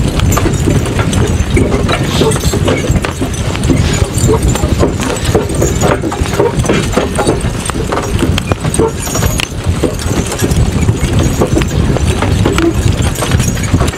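Three Suffolk Punch horses hitched together as a team give off a steady, close clip-clop of hooves that runs on without a break, with some jingling of tack.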